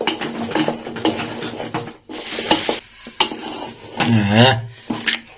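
A utensil scrapes and clanks against a pot as food is stirred, repeated close knocks and rubbing strokes in an uneven rhythm, with a brief vocal sound near the end.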